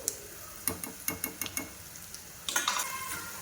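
Asafoetida hitting hot oil in a tempering for curd rice, giving sharp crackles and pops in short clustered bursts, then a louder flurry of sizzling near the end, with no talking.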